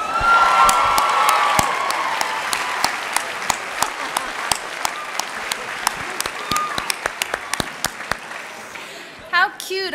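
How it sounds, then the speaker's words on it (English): An audience applauds and cheers after a child's talent-show act, dense clapping at first that thins into scattered claps, with a voice calling out near the end. "Let's have one last applause."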